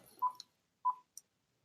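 Telephone tones: two separate mid-pitched electronic beeps spaced well apart, each preceded or followed by small clicks, clear against near silence and without speech.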